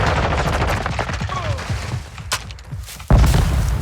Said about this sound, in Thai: ปืนมันค่อนข้างจะช้านะ แล้วก็หนัก แล้วมันลั่นกระสุนช้าด้วยแต่ว่ามันแรงอะ่ะ